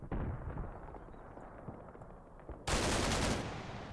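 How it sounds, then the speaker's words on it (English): Bursts of machine gun fire and distant explosions rumble through an urban battle in the war game Combat Mission Black Sea, with a louder sustained burst near the end. "Come on, just set up the machine gun already."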